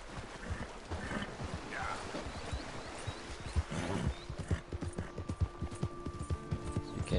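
Horse hooves in Red Dead Redemption 2, a steady rhythmic clip-clop of hoofbeats close by over faint ambient game sound.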